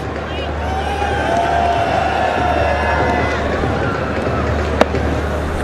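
A large crowd at a PSL cricket match in a stadium keeps up a steady roar of cheering and babble, dense and continuous, with one sharp crack near the end.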